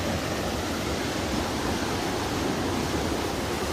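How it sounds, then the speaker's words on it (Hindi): Rushing water from a double waterfall in Rocky Mountain National Park's Wild Basin makes a steady, dense, broadband roar, loud and unbroken throughout with no voices. "डबल साइड में यह झरना बह रहा है"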